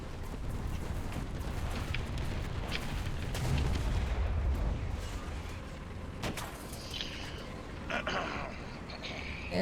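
In War Thunder, a tank takes fire amid a steady engine rumble, with scattered impact cracks and heavier thuds over a loud, dense battle backdrop while a voice talks over it.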